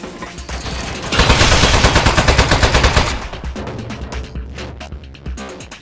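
Rapid automatic turret gunfire in the video game Aperture Desk Job, a loud sustained burst of fast repeating shots that cuts off abruptly, followed by quieter scattered game noises.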